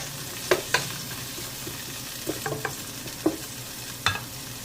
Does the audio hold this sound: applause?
no